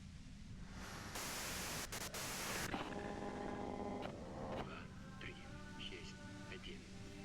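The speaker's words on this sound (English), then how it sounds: "If you've got something really important to say, you can do it through the white noise." Radio static and white noise in the video game Disco Elysium, a harsh hiss that swells loud for a stretch, then drops back under tonal electronic tones and beeps, continuous throughout.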